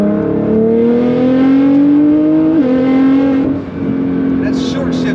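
A Nissan GTR accelerating hard and close by, its engine droning steadily higher in pitch, then briefly dropping on a quick short shift before pulling again, with someone talking excitedly over it.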